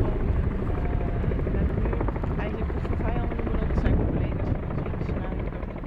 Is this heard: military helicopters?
yes